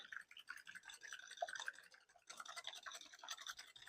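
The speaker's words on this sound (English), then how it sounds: "we're going to whisk this one egg up" Brisk, scratchy strokes of a whisk beating a single egg in a bowl, close and fairly quiet, in two continuous bursts separated by a short pause, with no voices.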